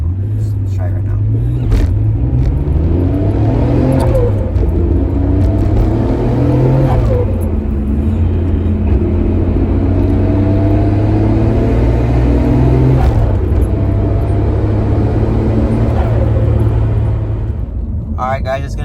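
A Nissan R32 GT-R engine revs hard, heard from inside the car with the windows up: a loud, steady rumble that climbs and falls in pitch through several rev rises, continuous for the whole stretch.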